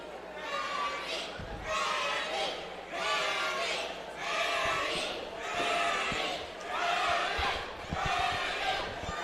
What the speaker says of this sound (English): Crowd chanting Manny.